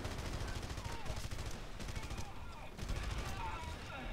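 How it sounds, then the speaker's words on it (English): Sustained machine gun fire in the shooter Red Faction: Guerrilla, a dense, loud rattle of rapid shots with heavy low thumps running continuously throughout, with brief bursts swelling and easing. "Machine gun!"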